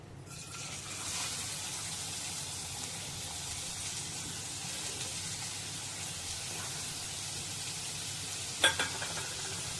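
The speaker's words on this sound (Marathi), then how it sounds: "कांदा तर भाजून घ्यायचा" Chopped onion fries in hot oil for a Kolhapuri chicken curry. The steady, close sizzle hisses continuously, stirring is faintly audible, and a single sharp clink sounds near the end.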